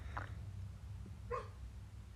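Two short dog barks from a pet indoors, one near the start and one just past the midpoint, fairly faint over a steady low hum.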